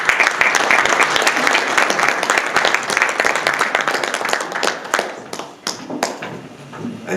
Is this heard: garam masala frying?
no